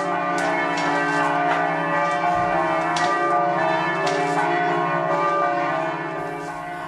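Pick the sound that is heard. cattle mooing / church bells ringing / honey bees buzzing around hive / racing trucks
church bells ringing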